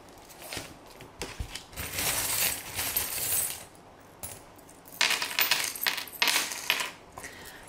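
Small metal charms cast onto a table for a divination reading, jingling and clinking in several scattered bursts as they tumble and settle, close and fairly quiet.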